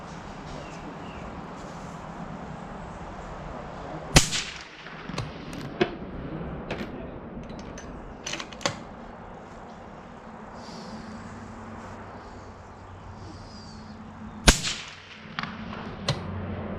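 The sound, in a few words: 6.5 Grendel AR-platform rifle gunshots at range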